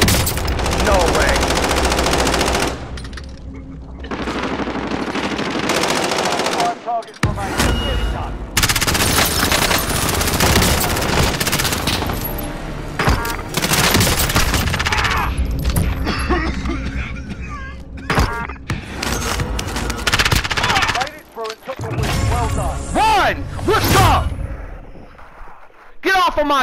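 Bursts of rapid MP7 submachine gun fire in Call of Duty Warzone, loud clattering volleys broken by short pauses, mixed with other gunfire and thuds across the match, with players talking between and over the shots.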